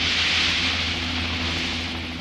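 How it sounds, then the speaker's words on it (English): A Chinese army helicopter flies overhead, a steady broad rushing drone with an engine hum underneath, fairly loud and fading slightly by the end. "We had a helicopter supplied by the Chinese army"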